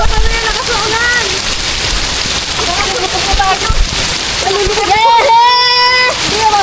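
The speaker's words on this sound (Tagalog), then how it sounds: "Lakas ng ulan." Heavy rain pours down around people on a river during a boat outing, a dense, steady hiss with splashing water, heard close while excited voices shout and talk over it throughout.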